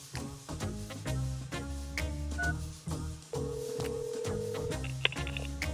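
A payphone in the Detective Gallo adventure game dialed as a series of tones over background music, ending in a longer sustained tone.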